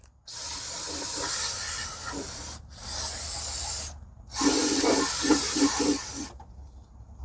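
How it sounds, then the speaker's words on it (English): Three bursts of brake cleaner spray hiss on a Mazda Miata, each lasting a second or more, close and loud with short pauses between. "just gonna spray all that crap"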